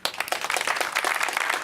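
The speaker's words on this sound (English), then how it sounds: "Thank you for the applause." Audience applause at a house dedication ceremony, a dense steady patter of many hands clapping at close range for nearly two seconds, with no voices over it.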